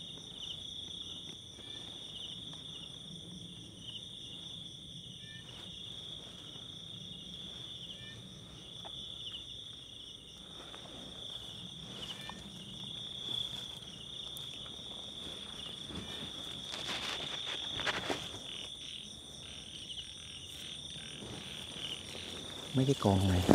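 Frogs and toads calling at night from a pond beside a house abandoned for ten years, a steady shrill insect-like chorus droning throughout at low level, with faint rustles and a brief louder burst at the end.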